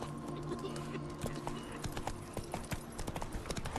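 Roach, a horse in The Witcher 3, trots along with steady clip-clopping hooves, close and distinct, over game music and ambient sound, with a voice speaking briefly.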